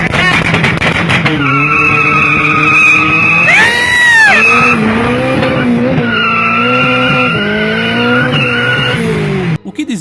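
A VW Gol duels Opalas at an Opala car meet, tyres squealing in long, loud, sustained skids with a roaring engine, the screech rising and bending mid-run before cutting off abruptly at the end.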